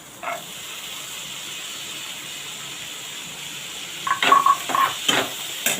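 Boiled chana dal sizzles and hisses softly in a pan, then a spatula scrapes and clinks against the metal several times near the end.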